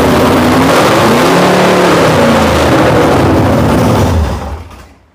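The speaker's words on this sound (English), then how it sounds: "Okay, keep giving it gas." A 512ci big-block Mopar engine revs hard and steady under throttle, loud and close, with rising and falling tones, then drops off toward idle at the end.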